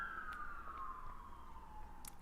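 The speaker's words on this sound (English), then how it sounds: "Ignore the ambulance in the background." An ambulance siren wails in the background, a single long descending tone sweeping down steadily over about two seconds, distant and fairly faint against a low ambient rumble.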